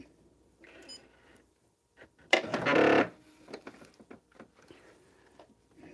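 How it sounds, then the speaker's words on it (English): A home sewing machine stitches down a quilt seam in one short, loud whirring burst of about a second, with faint clicks and handling noise before and after. "And then we're going to sew down that line"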